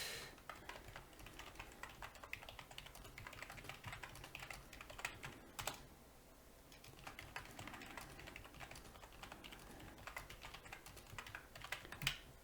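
Rapid, steady key clatter from a computer keyboard while a text file is typed, close but fairly quiet, with a brief pause partway through and no voices.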